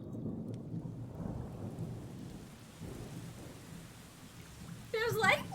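Thunderstorm with heavy rain hissing steadily and low thunder rumbling throughout, with a brief, brighter, higher sound near the end.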